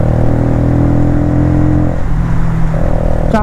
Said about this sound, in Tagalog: tsaka yung tunog. This is 200cc na motorcycle.